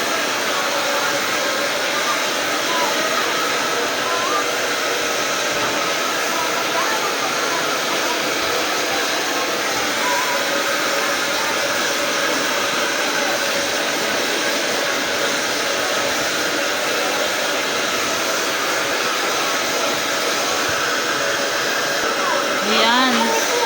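A new hair blow dryer runs continuously and loudly at close range for the whole stretch, a steady airy roar drying thick hair, with no talking over it.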